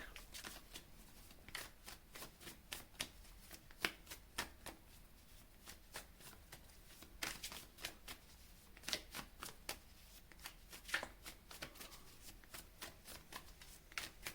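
Tarot cards shuffled for a reading on a Cancer sign, with a steady run of crisp riffling and fluttering card bursts, close and fairly quiet, with no talking.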